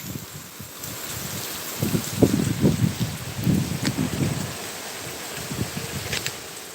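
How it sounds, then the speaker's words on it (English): Rain falls outdoors at night as wind gusts through swaying palm trees, a steady hiss with rustling leaves and buffeting wind noise on the microphone, moderately loud with no talk. "Can you guys hear the rain?"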